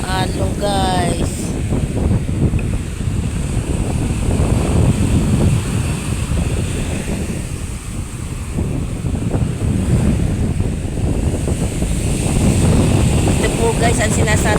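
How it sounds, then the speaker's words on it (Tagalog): Big ocean waves surge and crash near a shoreline with boats, a continuous roar of surf mixed with heavy wind buffeting the microphone throughout. "Lumaki na po ang alon guys."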